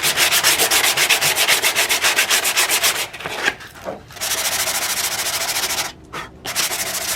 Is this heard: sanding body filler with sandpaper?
yes